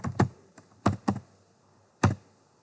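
Typing on a computer keyboard while entering a quantity in accounting software: five distinct, crisp keystrokes close up, irregularly spaced with short pauses between them, and no one talking.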